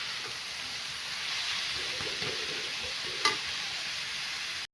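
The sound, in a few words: stirring coriander leaves into frying cabbage in a pan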